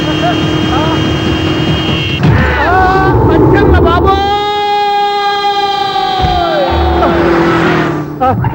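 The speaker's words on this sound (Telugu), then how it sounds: "ఆరినట్టండి బాబు, సైరన్నే కొట్టాడు." A loud wailing siren with rising and falling tones close by, mixed with engine noise and people talking over it, in a comedy film scene.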